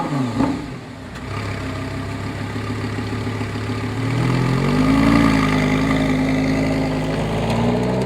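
A Lamborghini Gallardo LP560-4 Spyder engine idles with a deep, close rumble, then its pitch rises as it revs and settles into a louder, sustained drone.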